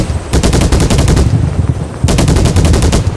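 Video game gunfire, rapid machine-gun bursts that rattle on almost without a break, loud and close, with a brief dip in the middle before a fresh volley; no voices.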